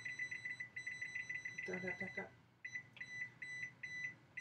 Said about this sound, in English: let me put my timer on